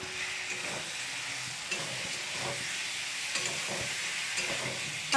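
Potatoes frying in a pan with spice mix, a steady bright sizzle broken by repeated scraping and stirring strokes at an uneven pace, close and continuous, with a small clatter at the very end.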